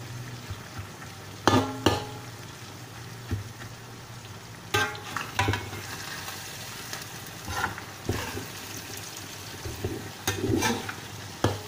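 Anchovies frying in oil until crispy give a low, steady sizzle broken by scattered clanks and scrapes of stirring.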